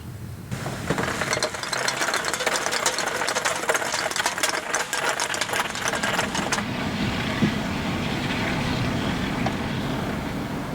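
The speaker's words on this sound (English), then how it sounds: "we dragged them behind the vehicle" EDC organizers being dragged along the ground behind a vehicle in a drag test, a steady close rattling scrape that continues throughout and turns rougher and lower partway through.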